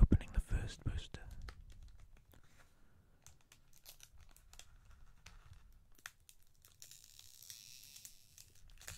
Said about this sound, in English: Let's begin by opening the first booster.